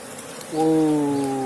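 An Apis cerana bee colony nesting in a coconut husk, one close, steady buzzing drone that starts partway through and holds for about a second over a quiet background.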